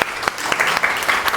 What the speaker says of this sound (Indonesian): beri tepuk tangan buat kelompok yang kedua